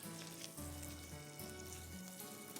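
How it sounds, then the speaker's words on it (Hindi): Juicy pieces frying in a pan over heat, a steady close sizzle and crackle throughout with faint tonal hum underneath, no voices. "इतने जूसी हैं, प्लीज़ इनको ओवर फ्राई नहीं करिएगा।"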